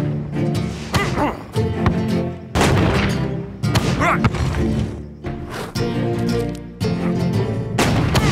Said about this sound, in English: Tiger wasn't joking about the cannon.